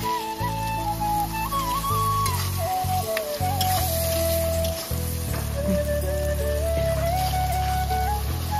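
Mutton kosha fries with a steady, dense sizzle that runs throughout, underneath a wavering tonal melody.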